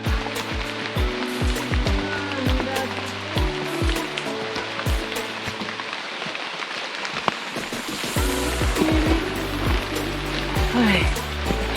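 Light rain falls during a mountain hike on Mount Ciremai, a steady sizzling patter over the whole stretch, with voices and a low rumble mixed in beneath it.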